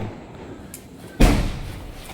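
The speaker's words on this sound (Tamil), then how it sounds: "அடுத்த sky shot Nayanthara sky shot வைக்கிறாங்க" A Diwali sky shot firework goes off with one sharp, loud bang just past the one-second mark, followed by a short fading rumble.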